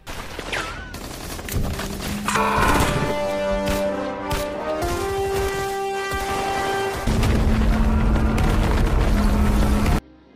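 Bomb blasts and a building collapsing in an action film, heard as repeated heavy booms and crashing rumble over sustained tonal score, loud and dense throughout.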